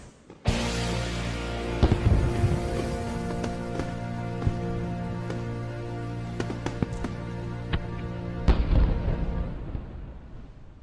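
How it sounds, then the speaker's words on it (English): Fireworks bursting over Washington Heights at night, a dense run of booms and sharp cracks over several seconds, a steady rumbling wash beneath with louder bursts near the start and end, heard from a moderate distance. "Look at the fireworks"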